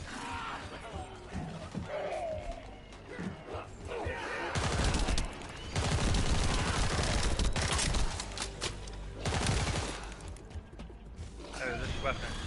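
Weapon gunfire in The First Descendant video game, with rapid mechanical bursts coming in several loud stretches over game sounds and music.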